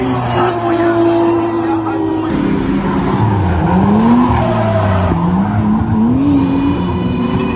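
Formula 1 race cars at the 2022 French Grand Prix drone and whine nearby, engine pitch sliding up and down as they pass, mixed with a steady hum of crowd and voices talking.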